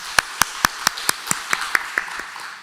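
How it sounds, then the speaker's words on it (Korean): About a dozen crisp claps from a church congregation in an even rhythm, fading slightly toward the end, with no voices. "우리 한번 박수해 주시면 고맙겠습니다."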